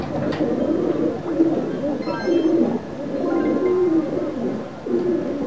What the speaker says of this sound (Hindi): शबीर भाई ने बहुत सारे कबूतर नए खोले।